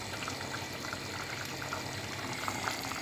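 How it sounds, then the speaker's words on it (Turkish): Oil being poured into a frying pan for tripe soup, a faint, steady liquid trickle and soft splashing heard alone and up close. "Yağ koyduk tavaya."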